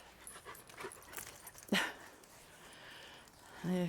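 Puppies just back from a walk at a campsite pant quickly up close in short breathy bursts, with a sharp yip and a whine near the end, no talking.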